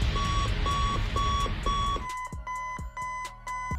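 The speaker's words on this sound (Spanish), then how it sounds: "incluso este sonido del despertador es el mismo que se escucha en el cuarto juego de la saga" Alarm clock from the Five Nights at Freddy's 4 video game: a loud, steady series of repeated electronic beeps over a busy background, then a sharper, rhythmic ringing pattern of metallic pulses continuing to the end, with no talk.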